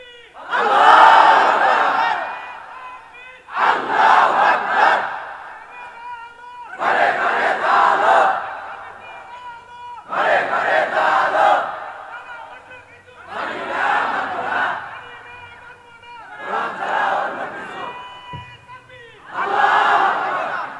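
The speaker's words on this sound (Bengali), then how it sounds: "পিছনের দিকে একটু তাকায় জোরে একটা তাকবীর দেন তো দেখি।" A large crowd at an Islamic religious gathering shouts takbir together in loud unison, seven powerful bursts spaced a few seconds apart, each swelling and fading before the next.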